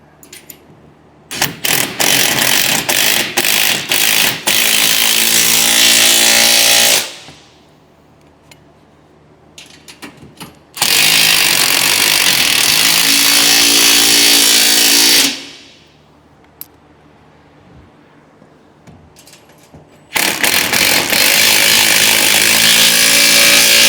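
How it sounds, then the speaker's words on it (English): A 9/16 impact wrench tightens bolts on a dock frame kit, delivering three long, very loud hammering bursts of several seconds each, separated by quieter gaps. "You're going to grab your 9/16 impact and wrench, and you're going to tighten down your bolts."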